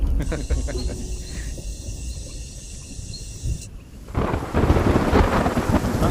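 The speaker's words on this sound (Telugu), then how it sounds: "అయ్యో వాన వస్తుంది సార్." A low thunder rumble with rain starting in a forest, building into a heavier steady downpour, a thin electronic whine over the first half.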